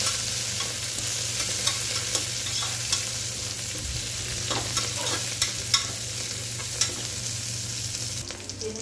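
Mint leaves sizzle in a pan while egg biryani is cooked, with a loud, steady frying hiss, a low hum underneath and sharp, irregular clicks and scrapes from a spoon stirring the leaves. The hum drops off near the end.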